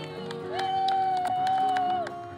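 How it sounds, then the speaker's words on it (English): A race crowd cheers on a young girl named Maddy as her dad pulls her in a small homemade cart during the bike leg, voices and whoops blending with a sustained whistle-like tone over steady background noise. "now they're yelling, go Maddy"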